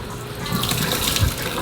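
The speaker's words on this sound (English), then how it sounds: "now we need to go to the sink and rinse it off with super warm water" Warm water runs steadily from a sink faucet for rinsing an egg in a toddler science experiment, a continuous close splashing hiss with no talk.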